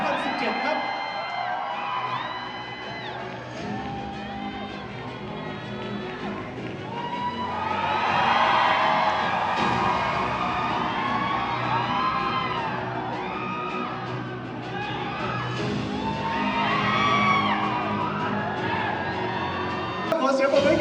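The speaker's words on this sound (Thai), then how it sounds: "ขอเสียงปรบมือดังๆต้อนรับ คุณมาริยาบุนเลิศลา มิสยินิเวอร์สไทยแลนด์" A crowd at a Miss Universe Thailand launch event applauds and cheers loudly to welcome a special guest, with whoops and shouts swelling over a host's amplified voice and background music.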